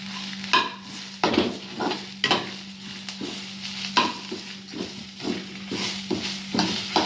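Dried red chilies and curry leaves fry in oil for a rasam tempering: a soft, continuous sizzle broken by repeated stirring scrapes of a spoon against the pan, close up, with a steady low hum beneath.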